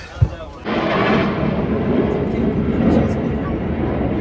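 Airplanes roar at the MCAS Miramar Air Show 2025 in San Diego, a loud, continuous engine rumble that rises after a short thud and holds steady, with voices faintly present.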